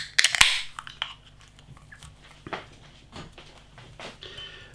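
A 355 ml can of Kismet IPA beer is cracked open with a sharp hiss and crunch at the start, followed by quieter gurgling and pouring sounds into a glass, close and fairly faint.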